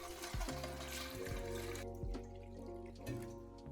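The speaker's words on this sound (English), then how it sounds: "Fill the pot with enough water to completely cover everything." Tap water running steadily into a large pot holding clean glass canning jars and lids, a continuous close splashing stream with a few shifts in pitch as the pot fills.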